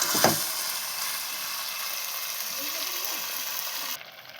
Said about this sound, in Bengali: দেখুন মাংসটা অনেকক্ষণ থেকে কষছিলাম, প্রায় হয়ে এসছে মাংসটা কষা।